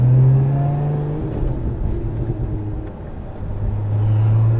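A Lotus Emira with a supercharged V6 gurgles and burbles on the overrun, a steady close engine rumble with a low droning tone that fades slightly mid-way, then swells back.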